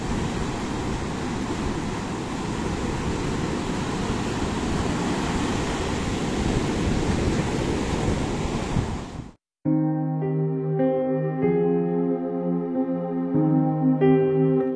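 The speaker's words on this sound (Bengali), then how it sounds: "এরকম একটা উত্তাল সমুদ্রই চেয়েছিলেন তো?" Rough sea surf at Gopalpur beach in Odisha roars as a loud, continuous wash of breaking waves for about nine seconds, then cuts abruptly to music.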